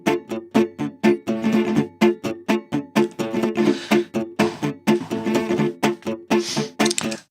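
A raw rhythm guitar track plays alone, steady strummed chords with sharp percussive attacks in a driving, even rhythm, dry and close.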